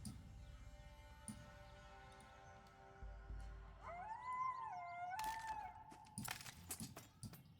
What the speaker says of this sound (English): The howl of the wolf, indicating nighttime